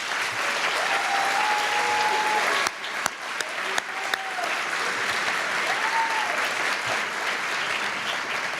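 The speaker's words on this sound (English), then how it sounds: "Please join me once again in a round of applause for all of tonight's honorees." Sustained applause from an audience at an evening honors ceremony, steady even clapping with a brief dip midway and faint tonal sounds underneath.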